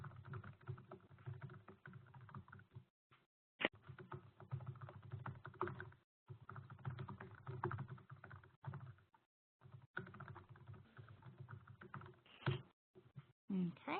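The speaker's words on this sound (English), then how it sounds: "I'm just typing one more thing in the chat real quick" Quiet keyboard typing in rapid bursts of clicks, with short pauses between runs, faint and close over a low background hum.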